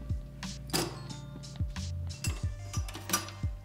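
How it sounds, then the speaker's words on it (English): Drink stirred in a glass holding Fever-Tree Mediterranean tonic water, a string of close, light clinks and taps repeating at an uneven rhythm, with no talking. "Now I'm gonna give this a nice little mix."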